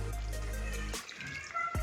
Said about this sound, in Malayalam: എന്നിട്ട് നമുക്ക് വെള്ളം ഒഴിക്കാം